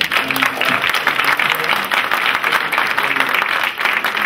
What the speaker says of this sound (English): let's give a big round of applause to Arash.